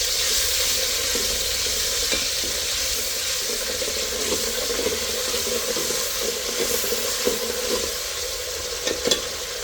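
Garlic-ginger paste fries in hot oil in a pot, giving a steady moderate sizzle with occasional stirring scrapes and small pops and no talk.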